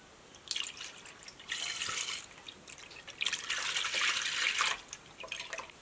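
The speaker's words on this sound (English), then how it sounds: "strain it through some muslin cloth and then a strainer and into" Hot lard poured through muslin cloth and a strainer into a bowl, making a soft liquid trickle and dripping in two longer pours, faint and close.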